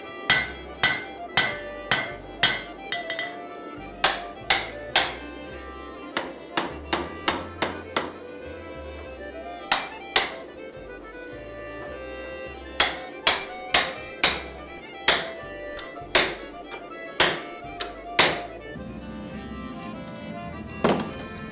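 Steel hammered at a forge while shaping a bearded axe, the edge steel packed into a folded taco for forge welding; sharp ringing blows land in quick bursts of several strikes, loud and close, with short pauses between volleys.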